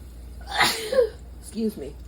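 A single close sneeze in a home kitchen, a sharp burst followed by a soft vocal murmur, fairly loud against quiet background.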